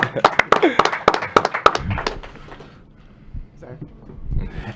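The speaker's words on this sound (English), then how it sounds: "So they deserve a little round of applause" A short burst of scattered clapping at an NBA draft introductory press conference for the Memphis Grizzlies, a few sharp near claps over murmured voices, fading into quieter room sound.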